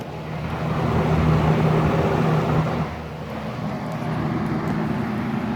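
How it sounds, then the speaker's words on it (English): A box fan motor runs steadily off a truck's power inverter in a driveway, a constant close whirring hum with a slight drop in level partway through, alone with no talking. "I am running a box fan in the driveway on a truck."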